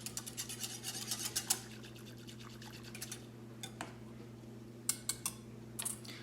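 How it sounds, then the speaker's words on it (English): Organic sugar being stirred into water for bees: quick clinking and dripping taps of a utensil in liquid, busy at first, then sparse and faint over a low steady hum. "Then I'm stirring that up and getting it mixed in"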